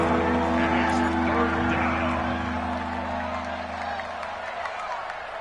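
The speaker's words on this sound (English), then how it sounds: "the crowd getting into it as we come up on a big third down" Football stadium crowd in a PS4 video game, cheering as a steady, dense roar that eases slightly toward the end, with a voice talking over it.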